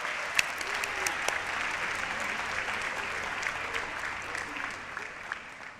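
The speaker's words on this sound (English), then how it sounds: "Another round of applause for the middle college scholars at Northwood High School." An audience at a dual enrollment recognition ceremony applauds high school scholars, sustained, moderately loud clapping from many hands that holds steady and then begins to thin toward the end, with some voices mixed in.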